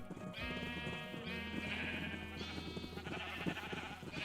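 Sheep in Minecraft bleat several times in a row, drawn-out wavering baas overlapping over a steady game background.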